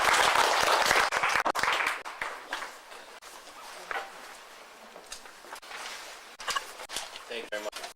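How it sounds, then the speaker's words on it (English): Audience applause for a speaker on Palestine at a public talk, starting fairly loud then thinning into scattered claps and shuffling, with voices audible underneath. "Let's give him applause."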